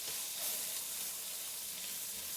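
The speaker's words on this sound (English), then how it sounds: "So you can really hear that sizzling away" Steady sizzling and crackling of steak frying in a hot pan on an AGA cooker, a continuous close hiss with no talking.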